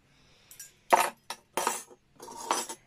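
Metal knife, fork and spoon clink and tap against each other and a hard surface in several short bursts, close and fairly quiet, with no talking.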